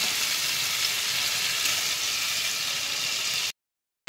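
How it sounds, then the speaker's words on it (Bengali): Prawns with whole cumin, bay leaf and dried chillies sizzle steadily in hot oil, a loud continuous hiss that runs unbroken before cutting off abruptly near the end, with no talk. "আমি ওই তেলের মধ্যে কিছুটা গোটা জিরে, তেজপাতা, শুকনো লঙ্কা ফোড়নে দিয়ে দিলাম।"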